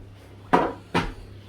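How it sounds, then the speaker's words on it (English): Oven tray with roasted carrots pulled out in a kitchen: two sharp metallic clatters about half a second apart, close and fairly loud over a steady low hum, with no talking. "Now grab your carrots from the oven"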